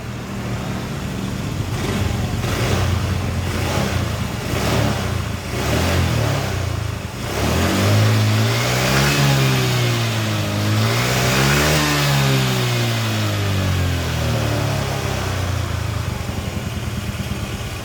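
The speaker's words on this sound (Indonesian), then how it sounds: "Kita coba gas." A small Honda BeAT or Vario 110 scooter engine, just after carburetor cleaning, idles, then revs up and down several times in rising and falling sweeps, loud and close, with no one talking.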